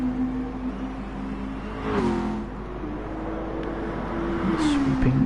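A race car circles a banked track, its engine note rising as it approaches near the two-second mark, then fading and returning with another pass, over steady background rumble.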